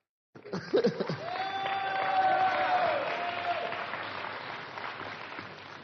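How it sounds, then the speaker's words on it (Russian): A church congregation bursts into applause that swells and holds, mixed with some cheering and a brief raised voice near the start. "Да, можно хлопать, можно аплодировать Иисуса"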